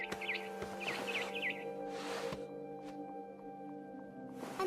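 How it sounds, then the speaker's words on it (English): A barn swallow chirps outside a window in the game What Remains of Edith Finch, with a few quick, high twittering calls early on over a steady ambient hum, followed by a couple of soft thuds. "Then I heard chirping outside my window. It was a barn swallow going back to her nest."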